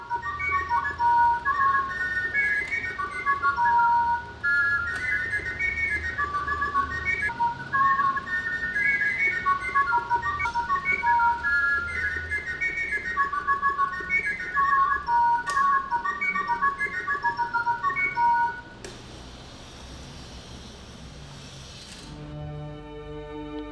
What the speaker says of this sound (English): Pierre Jaquet-Droz invented a whistle with sliding pistons, enabling one to modulate the song of the bird with a single flute